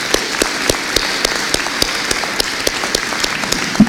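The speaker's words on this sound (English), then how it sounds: "I'd like to offer a warm round of applause for all of those groups, our exhibitors, our partners, and everyone." An audience gives a warm round of applause at a gathering, steady clapping with sharp individual claps standing out throughout.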